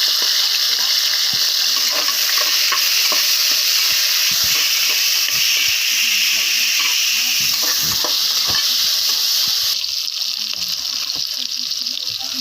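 Ginger garlic paste fries in a hot pan, giving a loud, steady broadband sizzle with occasional stirring scrapes and crackles throughout.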